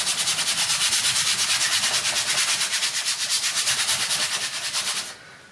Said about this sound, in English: So I'm going to scrub it on quite thin.